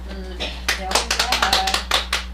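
Scattered claps from a small audience at a Buddhist dharma talk, a handful of sharp hand strikes building into a short uneven burst over a steady low hum, with no voices.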